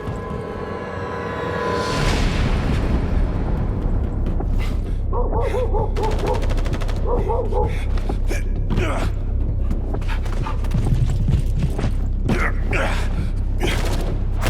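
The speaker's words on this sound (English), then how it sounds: "gunfire." Rapid bursts of gunfire crackle through a loud, busy soundscape in the video game The First Descendant, with mechanical clatter and a steady low rumble throughout.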